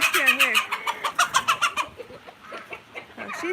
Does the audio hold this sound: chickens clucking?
yes